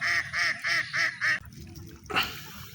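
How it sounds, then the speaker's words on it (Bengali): Several ducks in a field quack nearby in a quick run of five loud, evenly spaced calls. A quieter stretch follows, then a single further call. "প্রচুর হাঁস এই ক্ষেতটার ভিতরে মাছ থাকবে কি করে এই হাঁসই খেয়ে ফেলে"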